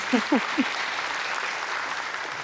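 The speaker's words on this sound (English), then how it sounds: "Can I ask you all to just join me in just giving another round of applause to Matt for that 30 minutes?" An audience claps in a City Hall event hall, with a few voice-like sounds at the start, then steady, moderately loud applause that carries on evenly to the end.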